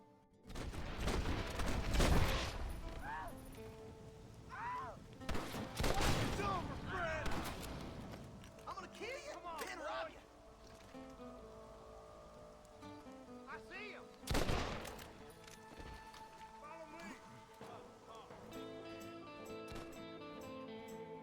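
Gunfire from new weapons in Red Dead Redemption, with bursts of shots and booms scattered across a busy, fairly quiet game soundscape, heavier clusters early and another burst midway, under background game noise.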